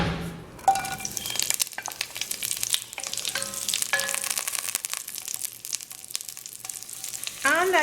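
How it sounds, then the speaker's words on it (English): Onions are dropped into hot oil in a pot for Trinidadian corn soup, setting off a sharp crackling sizzle that settles into a steady frying hiss with light clinks and stirring, close and alone. "I got my oil heating in my pot. To this I am going to be adding my onions."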